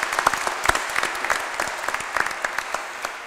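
An audience applauds at a shipyard keel laying ceremony in Ketchikan, Alaska: steady, dense clapping from a crowd of people, loud and close, lasting throughout without talk.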